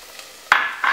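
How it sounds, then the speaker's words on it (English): Garlic and spices dropped into a hot pan with softened golden onions for a Moroccan-style stew, giving two sharp bursts of sizzling that hiss on loudly after each addition. "So next we add in our garlic and our spices"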